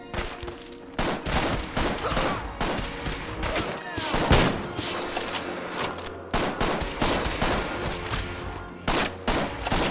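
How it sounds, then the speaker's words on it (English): Raiders' gunfire in the game Fallout 4 cracks out in dense, repeated bursts and volleys that run through the whole stretch, loud and close, with a voice talking under the shooting. "Somebody is popping off rounds at us"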